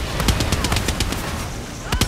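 Rapid automatic gunfire fills a Far Cry 6 firefight, loud and dense with overlapping shots and bursts throughout, and a voice is faintly audible beneath it.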